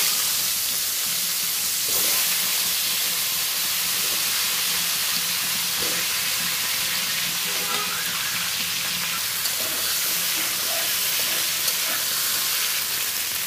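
Potatoes and pointed gourd sizzle in hot oil left from frying hilsa fish, with a kalo jira (nigella seed) tempering, giving a steady, loud hiss with occasional faint stirring clicks.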